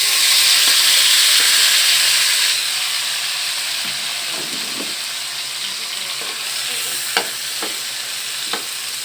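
Sarsyado with egg frying in a pan, with a steady loud sizzle that quiets after a couple of seconds and is broken by intermittent scraping stirs and a few sharp utensil knocks.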